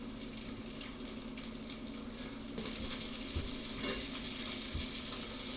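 Fish fillets for Baja tacos browning in a hot pan, a steady bright sizzle and hiss throughout, growing slightly louder midway with a few soft knocks and shifts, no voices.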